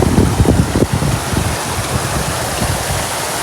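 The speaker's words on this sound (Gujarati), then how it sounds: "બહુ એટલું મોટું છે નહીં, નાનું એવું ઝરણું છે." A small, slippery mountain stream in the hills near Nashik, Maharashtra, rushes steadily nearby. The water starts with a slightly louder, churning splash, then settles into a constant broadband hiss with no talking.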